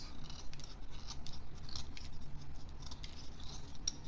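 A utility knife whittles the tip of a wooden pencil into a sharp three-sided point, giving a steady run of close, soft scraping and shaving strokes with no talking.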